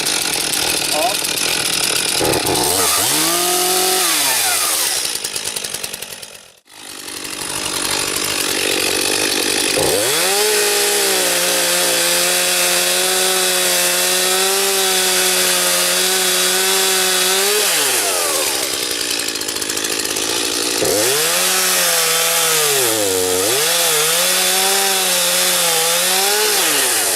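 Stihl MS 251 C chainsaw cutting wood, engine roaring loud and close with rising and falling revs, briefly dropping out once, then bogging into long steady cuts.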